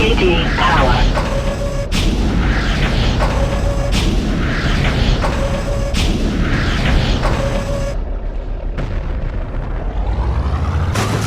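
Missiles explode in the 1999 video game Recoil as a steady series of heavy booms, roughly one per second, each paired with a short tone over a constant rumble.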